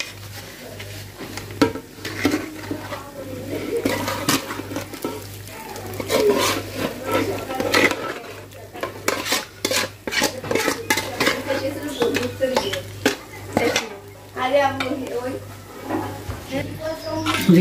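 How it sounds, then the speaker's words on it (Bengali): Rice and chicken frying in a pot, with dense, continuous clattering of a metal utensil scraping and stirring against the pot, irregular clinks and knocks throughout, close and fairly loud, over a steady low background hum. "চাল এবং চিকেনটা আমার ভাজা শেষ"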